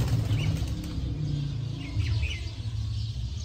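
Sialkoti pigeons flap their wings in a steady low fluttering whir, close by, with faint chirps and tweets scattered over the top.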